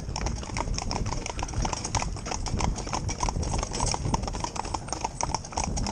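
Steady clip-clop of hooves from a mixed four-in-hand team of young, green ponies pulling a carriage, close and continuous with dense overlapping footfalls and rattling harness.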